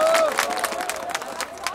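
Crowd at an outdoor political rally in Busan clapping for a speaker, a dense patter of applause mixed with voices and cheers, moderately loud and fairly near, with a sustained tone rising through at the start.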